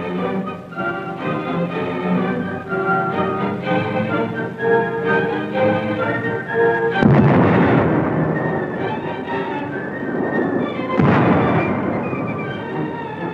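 Gunfire in a 1939 newsreel of the siege of the Polish post office in Danzig: heavy booming blasts at two points over a continuous orchestral-sounding newsreel soundtrack.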